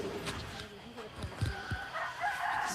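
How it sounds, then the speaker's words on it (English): Roosters crow faintly in the distance over an outdoor background, with a few overlapping calls. "the roosters crowing."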